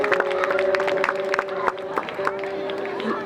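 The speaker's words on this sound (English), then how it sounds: "Give yourselves a round of applause." Festival crowd at an outdoor concert applauding and cheering, a dense, steady wash of claps and voices with a sustained tonal hum from the stage running underneath.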